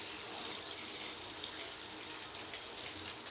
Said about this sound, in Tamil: தண்ணி ஊற்றிடுங்க.